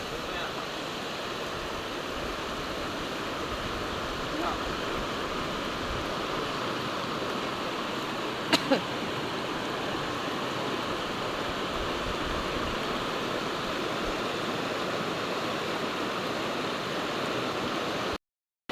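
A strong river current rushes steadily on, a broad continuous wash of flowing water at an even level throughout, with one brief sharp knock near the middle.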